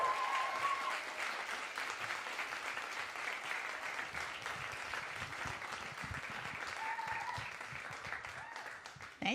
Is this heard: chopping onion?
no